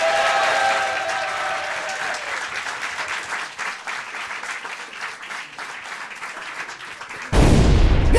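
Studio audience of a French television show breaks into sustained, loud applause that fills the room, dense and steady throughout, swelling even louder near the end.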